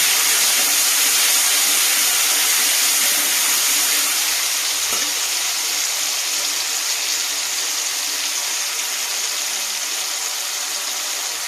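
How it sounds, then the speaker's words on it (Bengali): Steady, loud sizzling of ginger-garlic paste frying in hot oil continues throughout, a dense crackling hiss with no talking. "একটু ভাজা ভাজা হোক।"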